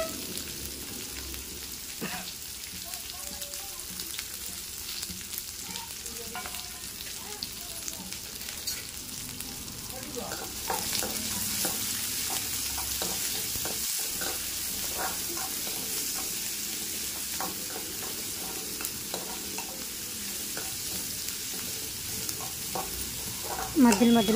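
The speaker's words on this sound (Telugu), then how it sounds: "అలాగే చిన్నగా తరుక్కున్న ఎర్రగడ్డలు బాగా మగ్గాలండి." Finely chopped red onions fry with curry leaves in a pan, giving a steady sizzle that grows louder and denser about halfway through, with occasional stirring.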